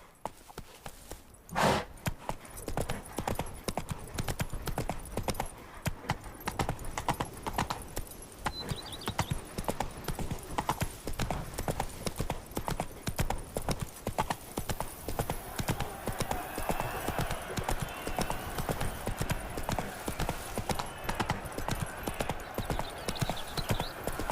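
Roach the horse galloping in The Witcher 3: Wild Hunt – Blood and Wine, with dense, rhythmic hoofbeats that run steadily for many seconds after a sharp opening hit, and a faint voice near the start.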